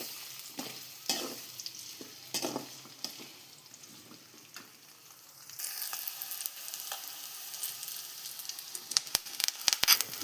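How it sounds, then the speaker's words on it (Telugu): Thinly sliced medium onion frying in a pan for a flat bean tempering, a steady close sizzle with stirring scrapes, growing brighter toward the end with a few sharp clinks. "ఒక మీడియం సైజ్ ఆనియన్ని సన్నగా ముక్కలుగా చేసి ఇందులోనే వేసి ఫ్రై చేయండి."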